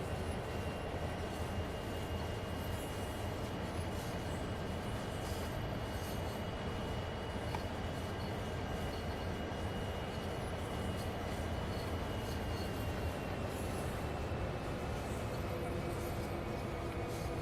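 Santa Fe F7 locomotive in Train Sim World, a steady low rumble of engine and rolling wheels running unbroken at moderate level, with faint high tonal whines drifting above.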